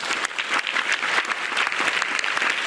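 Audience applause at a youth talk on national defence, dense and continuous clapping that fills the room loudly for a couple of seconds, with no talking over it.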